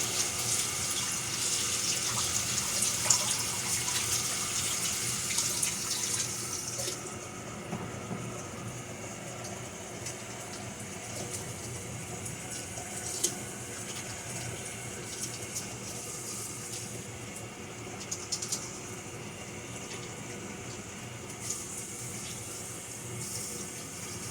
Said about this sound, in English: so I forgot to wash my hands real quick